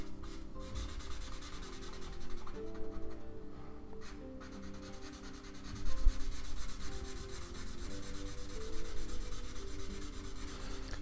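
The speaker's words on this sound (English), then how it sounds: "I'm just gonna keep rubbing it until it's nice and smooth" A pastel pencil rubs back and forth on paper to smooth shading, producing a continuous close scratchy friction that swells slightly midway, with no voices.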